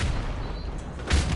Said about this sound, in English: There's grenades everywhere! There's so much explosion.